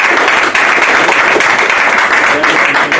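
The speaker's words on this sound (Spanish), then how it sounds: "Yo creo que se merece un aplauso." Audience applause at the close of a history talk on the Battle of Camerone: dense, steady clapping fills the room, loud and unbroken for about three seconds.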